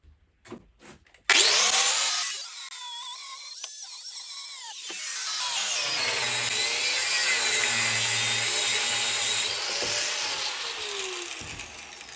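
A garden shredder chewing wood gives a loud, harsh mechanical grinding roar that starts abruptly, drops briefly, then settles into a steady, continuous churning drone.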